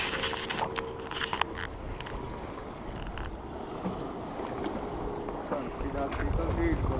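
A fast motorboat passes offshore at a beach in Malta, a broad steady engine roar with wind buffeting the microphone and lapping water, while people talk nearby.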